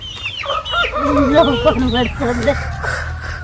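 A rooster crows loudly nearby amid hens clucking, with a person's voice mixed into the farmyard calls.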